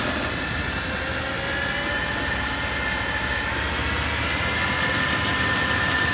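Mechman racing alternator spun up to cruising speed on a test stand, a loud, steady high-pitched whine with a constant drone and no voices throughout.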